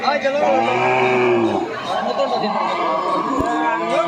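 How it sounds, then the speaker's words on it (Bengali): Cattle at a village cow market moo in long, loud, low calls up close, with a crowd murmuring and a voice talking underneath. "দর্শক হাম্বা হাম্বা ডাকে তো এখানে একটা কালো গরু দেখতে পাচ্ছি"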